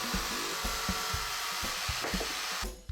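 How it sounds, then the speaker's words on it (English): A jigsaw cuts a large woofer hole in a wooden speaker box. The blade gives a close, steady buzzing rasp with rhythmic low thumps and cuts off just before the end. "Because it's so big, we'll need to use our jigsaw."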